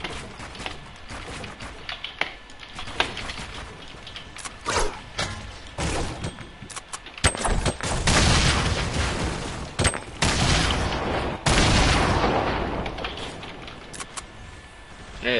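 Gunfire rattles in Fortnite on PS4, scattered shots and bursts at moderate distance, some louder volleys clustering toward the middle amid game noise.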